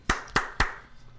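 Three sharp, close hand claps in quick, even succession, each a crisp isolated snap with a short decay into near silence.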